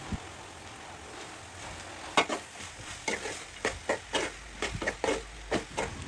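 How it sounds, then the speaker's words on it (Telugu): Half a kilo of thinly sliced onions fry in about 200 grams of hot oil in a pan, a soft steady sizzle broken by repeated scraping stirs in an uneven rhythm, close and moderately loud. "నూనె వేడెక్కిన తర్వాత సన్నగా తిరిగిన ఉల్లిపాయలు అర కేజీ వరకు వేసుకోవాలి"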